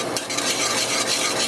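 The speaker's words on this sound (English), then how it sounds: "you're just kind of mixing it up and pulling it away from the sides" A whisk scrapes briskly around a pot of thickening polenta, a dense, continuous wet swishing and scraping with quick rhythmic strokes, close and alone.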